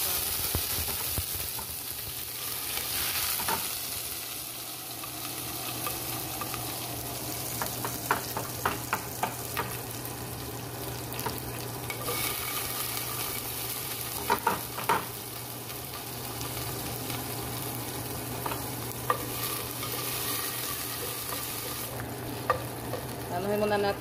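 Ingredients fry and sizzle in a hot pan while being stirred, a steady close hiss broken by scraping clicks and occasional sharper taps against the pan.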